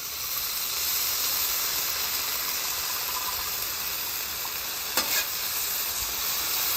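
Brat burger sliders sizzle steadily on a grill alongside green chilies, a continuous close frying hiss with a brief louder crackle near the end and no talking.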